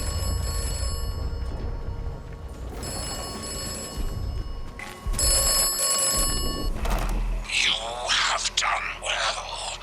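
Telephone ringing inside a red phone box in the video game Atomfall, several ring bursts spaced apart over a low background hum, followed by a short stretch of garbled, distorted voice-like sound.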